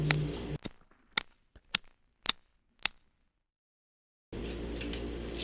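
Five or six crisp snips of scissors cutting, evenly spaced and close, in a quiet room, followed by a steady background hum.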